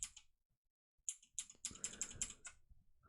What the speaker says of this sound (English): I hope my keyboard sound is not too obnoxious